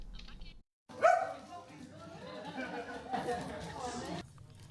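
Dachshunds barking and yapping at a festive Christmas dog event in Manchester, a lively burst of dog noise mixed with crowd chatter and people talking throughout.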